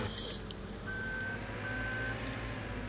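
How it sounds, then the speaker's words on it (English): Reversing beeps from farm equipment with a fifth-wheel hitch in Farming Simulator 17: two long steady electronic tones, one after the other, over a constant engine drone. "So if you have a piece of equipment on there that beeps when it backs up"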